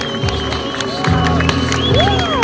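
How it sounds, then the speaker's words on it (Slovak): A loud crowd at a motorcycle stunt show at Autosalón Nitra 2014 cheers and applauds continuously, with shouts and whoops rising over the dense roar. "Naozaj obrovský aplauz."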